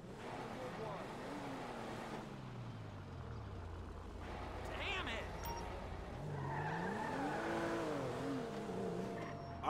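A car driven in the video game GTA V, its engine revving and falling in pitch with rising and dropping tones, tires skidding at times, loud and steady throughout with some talk mixed in.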